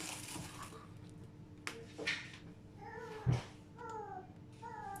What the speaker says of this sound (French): Tu me regardes, mon chat?